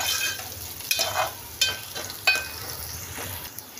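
Onions fry with a bay leaf in a pot for a mutton and chicken dish, a steady close sizzle broken by a few sharp scrapes and knocks as a spoon stirs them, no talk.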